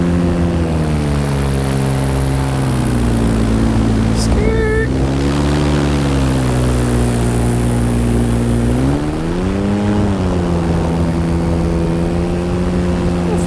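Paramotor engine and propeller in flight above a lake in freezing conditions, a loud steady droning buzz whose pitch dips and rises slightly, heard continuously up close, with wind rushing over it.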